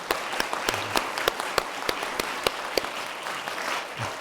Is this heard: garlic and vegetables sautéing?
no